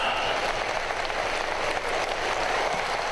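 An audience delivers steady, dense applause, a continuous wash of many hands clapping together at an even loudness, with no voices standing out.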